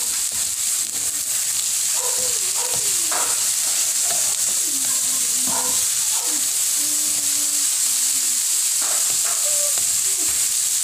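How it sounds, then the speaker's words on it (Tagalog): Carrot being stirred in a frying pan: a steady, loud sizzle and hiss of frying runs throughout, with utensil scrapes over it and faint tonal sounds in the background. No speech. "haluin mo lang ng haluin"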